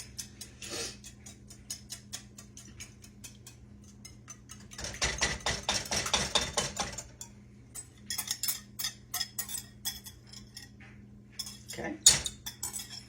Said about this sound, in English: we're gonna stir it in with this sugar